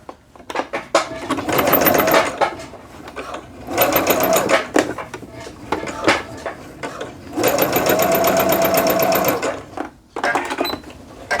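Sewing machine basting the back seam of jogger pants, running in several quick bursts of fast, close whirring separated by brief pauses and soft handling noises.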